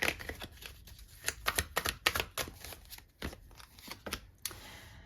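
Tarot cards are dealt and laid down in a Capricorn reading, giving a run of crisp, close slaps and flicks in an uneven rhythm with short pauses between.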